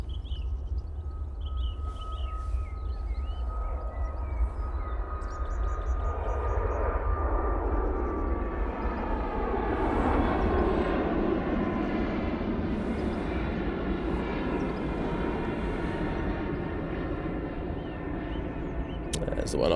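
Airliner departing Manchester Airport in fog, a distant broadband engine roar slowly swelling then easing over steady background hum, with no one talking.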